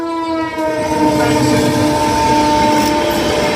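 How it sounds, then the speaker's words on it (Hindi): Purushottam Express 12802 rushing past at a station in Ghaziabad, a loud, steady roar of rail cars with a sustained train horn tone riding over the rumble throughout. "सामने से निकल रही है पुरुषोत्तम"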